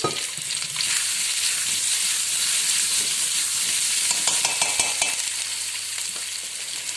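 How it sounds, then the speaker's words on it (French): Potatoes sauté in a hot pan with a steady, loud sizzle and occasional stirring scrapes, continuous with no voices. "on monte le feu et on fait sauter nos petites pommes de terre"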